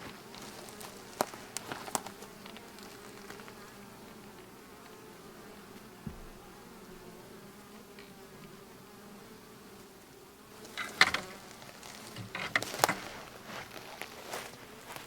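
A faint, steady buzz of honeybees hovers around an open hive during a check, with a few soft knocks and handling sounds near the end.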